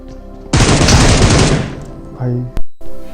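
Automatic gunfire in the battle royale game PUBG around a military base: one loud, close, dense burst of rapid shots lasting about a second, then quieter game sounds and a sharp short crack near the end.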